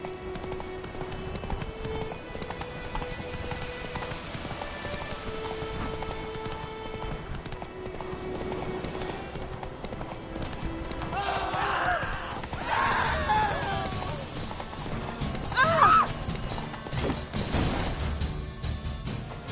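Roach the horse gallops in the video game Witcher 3, a steady rapid clip-clop of hooves under ambient game sound, with a brief neigh and a voice speaking near the end.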